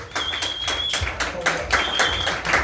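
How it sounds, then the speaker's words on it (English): An audience at a comedy open mic applauds the comedians, with scattered hand claps pattering steadily while people talk over them and a thin electronic tone sounds now and then. "clap it up for all the comedians that went up and did their thing"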